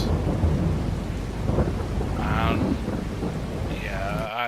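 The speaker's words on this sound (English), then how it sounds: "Ah, it's raining." Game rain and thunder in Farming Simulator 22: a dense, loud rain wash with rolling thunder rumbles, and a brief tonal effect rising near the end.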